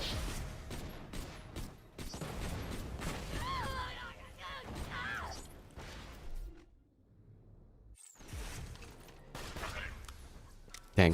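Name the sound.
Maliwan Logan's Gun firing in video game Borderlands 2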